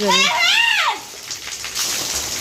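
Water sprayed down from a rooftop makes a steady, hissing spatter that follows a voice heard at the start.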